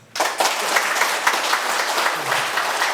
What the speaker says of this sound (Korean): 내년에 여기 표 찍을 사람만 하면 박수 쳐요.